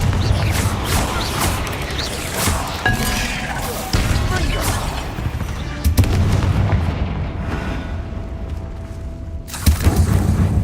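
Confringo fire spell explosions in the video game Hogwarts Legacy: several heavy booming blasts land over a dense, busy combat soundscape, with sharper bursts around the middle and a loud hit near the end.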